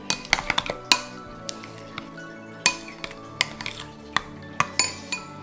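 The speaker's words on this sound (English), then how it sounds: "So mix this all together." Utensil stirring pumpkin pie filling in a bowl, spiced with black pepper: repeated clinks and scrapes of metal against the dish in an irregular rhythm, close and fairly quiet, with no talking.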